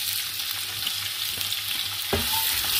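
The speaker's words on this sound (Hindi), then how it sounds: "अब मैं इसमें डालूंगी 2 बड़ी कटी हुई प्याज" Chopped onions sizzle and fry in hot mustard oil, a steady crackling hiss close up with a brief stirring scrape near the end.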